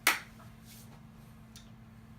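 A single sharp hand clap for audio sync snaps at the start, close and bright, then fades into faint room hum with a couple of soft rustles.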